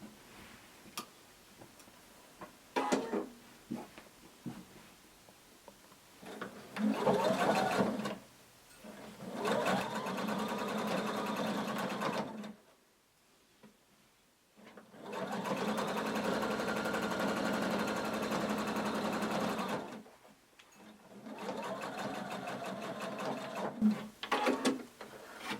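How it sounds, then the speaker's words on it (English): Sewing machine running a quarter-inch seam across a pocket of a hooded tunic, several sustained bursts of steady whirring stitching separated by short pauses and quiet handling, fairly close. "we're going to sew using a 1/4 inch seam allowance"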